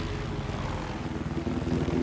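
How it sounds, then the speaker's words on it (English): A helicopter in an online multiplayer video game match on the Resort map drones with a continuous whirring rotor and engine throb, loud and steady throughout. "Oh, I love that helicopter, though."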